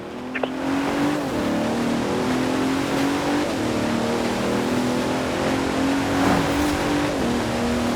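A car engine in Forza Horizon 4 pulls hard and steady, its pitch rising and dropping with gear shifts as the revs climb again, loud and close with no talking over it.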